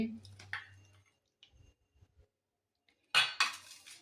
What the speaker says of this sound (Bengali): এটা ভগবানের জন্য বাটিতে গুছিয়ে নিচ্ছি।